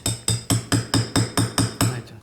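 A hammer strikes sideways at a children's dinosaur fossil dig, nine sharp evenly spaced knocks in a steady rhythm, loud and close, with no talk.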